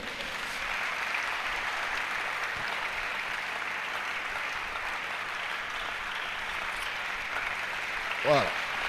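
A church congregation claps together through a worship service, a steady, dense wash of applause that holds evenly throughout, with a brief voice near the end.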